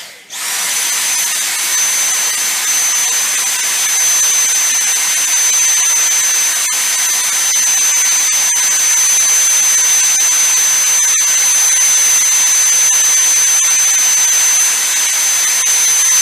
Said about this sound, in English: We're going to test the vacuum on standard mode and then again on max mode.